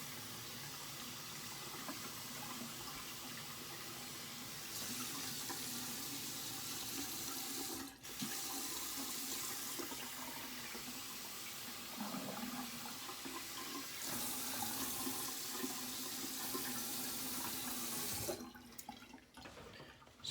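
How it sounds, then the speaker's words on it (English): Water runs steadily into a draining sink during a rinse, a continuous hiss and gurgle whose level shifts a few times. A sharp click sounds partway through before the flow cuts off near the end, with no voices. "Excuse the draining sink."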